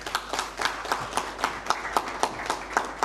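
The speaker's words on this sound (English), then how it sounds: "Can we clap hands for them, please?" An audience at a CAF press conference held after an Africa Cup of Nations tournament claps steadily. The sharp hand claps are close and form an even, fairly quick rhythm with no talking over them.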